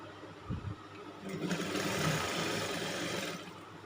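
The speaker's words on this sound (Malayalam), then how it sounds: "ഈ സമയത്ത് നമ്മൾ ഡബിൾ സ്റ്റിച്ച് ചെയ്ത് കൊടുക്കണം കേട്ടോ ഷോൾഡറിൽ" Sewing machine running a double line of stitches along the shoulder seam of a pleated nighty, a steady mid-pitched whirring hum that swells slightly and holds for a few seconds at moderate volume.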